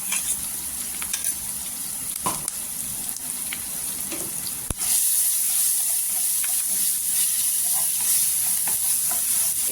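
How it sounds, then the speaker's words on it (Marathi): Ginger, garlic and green chili masala sautés in hot oil for a Mumbai-style vada pav, giving a steady close sizzle with scraping stirs. The frying gets louder and brighter partway through and continues with no talking. "तो मसाला आहे ना छान असा तेलामध्ये परतून घ्यायचा"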